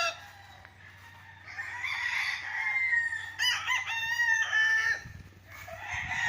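A rooster crows loudly and repeatedly nearby on a farm lot, with hens clucking softly around it and a low steady hum underneath.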